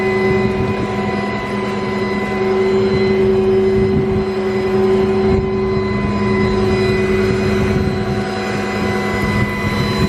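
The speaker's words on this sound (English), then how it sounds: "no funny noises with the bed going back" Steady hydraulic whine and engine drone from the JerrDan aluminum rollback bed of a gas 2015 Ford F550 sliding back, a constant loud hum with tonal pitch and no voices.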